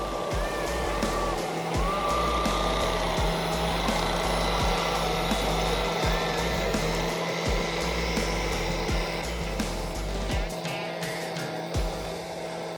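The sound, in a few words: Kubota L39 wheel loader digging soil around tree roots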